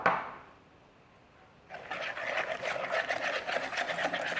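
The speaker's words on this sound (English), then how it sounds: "And then an egg. All right, give that a whisk." An egg and raw sugar whisked together for a basic muffin batter, giving a steady, close run of quick rhythmic scraping strokes that begins after a quiet moment and carries on to the end.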